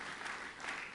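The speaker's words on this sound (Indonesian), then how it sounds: "Tepuk tangan bagi Allah kita, saudara." Congregation applause during a church service, a faint, steady rush of many hands clapping together, distant and low in level, with no voices standing out.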